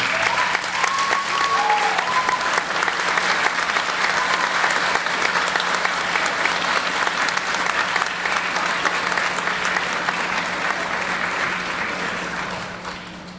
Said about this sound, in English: give a round of applause to your family members who are here today